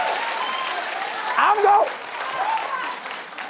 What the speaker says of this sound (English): Start cheering